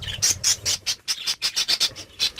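A budgerigar in its nest gives rapid, close, scratchy squawks and chatter in quick bursts, with no pauses longer than a moment.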